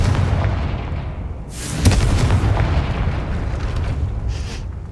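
Confringo fire spell going off in Hogwarts Legacy, a loud booming blast near the two-second mark over a continuous rumbling game ambience, with a fainter burst trailing off later.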